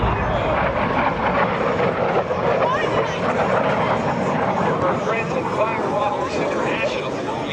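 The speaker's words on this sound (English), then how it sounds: "Here's the beautiful, gorgeous MiG-17." A MiG-17 jet fighter flies past at an air show with a loud, steady engine roar throughout, while an announcer talks over a public address system.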